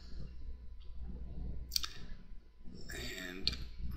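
Computer mouse clicks at a desk, a few sharp isolated clicks spaced apart, faint and close, with quiet room noise between them.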